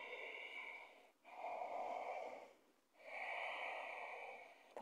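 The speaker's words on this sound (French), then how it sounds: "Si vous connaissez la respiration Ujjayi, vous pouvez respirer avec la glotte un petit peu serrée." Slow Ujjayi yoga breathing through a slightly constricted glottis, each long airy inhale and exhale carrying a soft hiss, with three steady breaths separated by short pauses, close and quiet with no talking.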